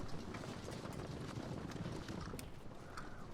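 Horse archers gallop in Medieval Total War, a dense, steady drumming of many hooves at low volume that rolls on without a break.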